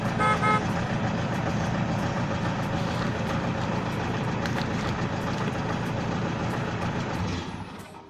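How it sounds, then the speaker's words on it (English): A car engine idling with its exhaust running: a steady, loud, close rumbling drone with a throbbing low pulse that holds evenly for several seconds and then drops away abruptly at the end. "we can't really shove this potato in when the engine is running because the exhaust on idle is producing too much of pressure"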